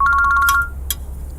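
A phone rings loudly and close with a bright electronic ringtone: a quick run of repeated beeping tones that cuts off after about half a second, followed by a short click.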